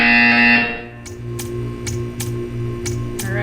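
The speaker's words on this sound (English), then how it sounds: "You will hear a buzzer." A repeating buzzer in the video game Portal 2, sounding in regular electronic pulses about every half second over a steady hum, preceded by a sustained tonal note; loud and close, no talking.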